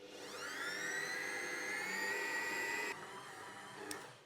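Stand mixer with a kneading hook working sandwich-loaf bread dough, a steady loud motor whir with a rising tonal whine that holds for about three seconds, then drops to a softer hum, with a brief knock near the end.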